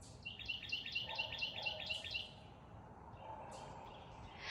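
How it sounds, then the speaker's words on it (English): Birds chirp outdoors in a garden, a quick repeated series of bright tweets followed by scattered softer calls, fairly faint over a steady background hiss. "Listen to those birds."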